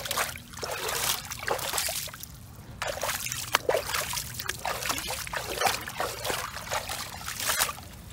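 Water poured and trickling over a beaver trap to wash off scent, a steady splashing and dribbling stream that runs for several seconds with brief pauses, close by and fairly loud.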